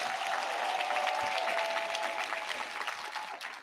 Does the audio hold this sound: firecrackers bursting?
no